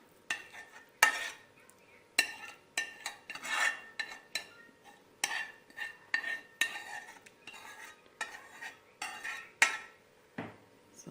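Boiled pasta stirred in a pot with a tomato, coriander and garlic sauce, a rhythm of wet, sticky scrapes and utensil clacks against the pot repeating steadily and close, with no voices.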